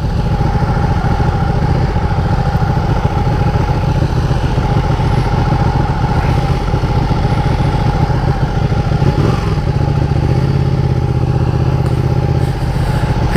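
Ducati Panigale 1299 motorcycle engine idling at night during parking, a steady low rumbling throb that stays loud and close throughout with a slight change in tone near the end.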